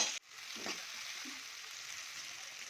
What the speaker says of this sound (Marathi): नंतर टोमॅटो, त्याला 5 मिनिट चांगलं तळून घेऊया।